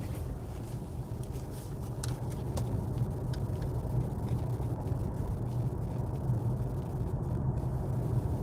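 An MG S5 electric car accelerates up a motorway on-ramp toward a 120 zone, giving a steady, rising hum of road and tyre noise with wind building in the cabin and no speech.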